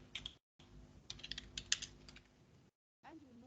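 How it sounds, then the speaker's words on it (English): Computer keyboard typing with a burst of quick, uneven keystrokes, close and fairly faint, broken by short silent gaps, while someone enters a program name into a search box. "We type Expression Web,"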